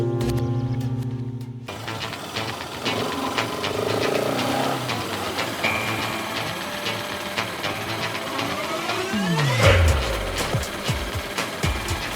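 A motorbike engine runs steadily with a close mechanical chugging and rattle that holds throughout. Near the end a falling whine and a sharp knock stand out from it.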